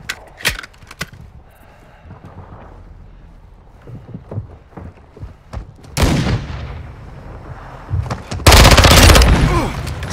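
Gunfire in Call of Duty Modern Warfare 2 during an online match, scattered sharp shots early, then heavy loud bursts of automatic fire later, close and punchy, with a voice heard briefly in between.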